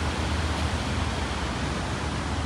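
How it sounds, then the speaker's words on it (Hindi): Water rushing under a small footbridge at Shymbulak, Kazakhstan, a steady, dense broadband hiss close by with no pauses or talk, loud and unbroken across the whole moment. "और ये यहाँ पे पानी बह रहा है"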